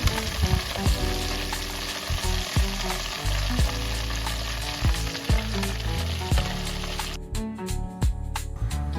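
Garlic goes into hot oil and sizzles loudly and steadily, with spatula scrapes and clinks against the pan recurring throughout, and no talk over it.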